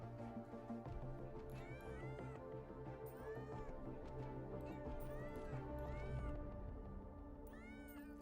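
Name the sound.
person imitating cat meows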